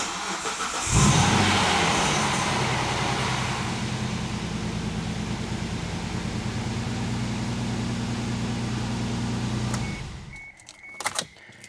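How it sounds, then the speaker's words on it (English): A Suzuki Grand Vitara engine cranks briefly and catches, then idles steadily and loudly for about nine seconds before shutting off, followed by a few faint clicks. "we just want to start the car, cycle it, make sure our oil light goes off"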